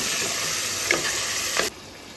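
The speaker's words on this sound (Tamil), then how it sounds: "மட்டனும் சேர்த்துட்டு நல்லா கிளறி விடணும்" Mutton stirred with salt in a pot for biryani, a bright hissing sizzle with two brief scraping strokes of the spoon before the sound drops sharply quieter.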